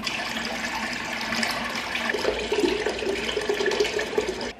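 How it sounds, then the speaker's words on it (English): Warm water runs from a tap while a face is rinsed after cleansing oil, a steady splashing rush with faint trickles and dabs, close and without talk. "And then I'm just going to emulsify with some warm water and rinse it off."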